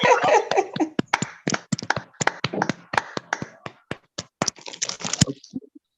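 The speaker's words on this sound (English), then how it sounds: "I wanted a round of applause, so I had to request for it." Scattered, uneven claps come through microphones during an online club meeting, a few participants clapping out of sync with sharp individual slaps rather than a full crowd.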